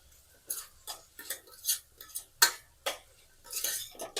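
A utensil scrapes and clinks against a pan while vegetable pulao is stirred, about ten irregular strokes in quick succession, close up and without talking.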